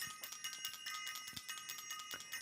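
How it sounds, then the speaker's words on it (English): A small bell rings in quick, repeated light strikes with a bright metallic tone, heard alone, close and fairly soft. "I got to ring the bell."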